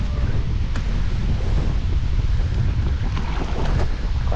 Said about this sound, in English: Quite a strong breeze on this section, right in my face.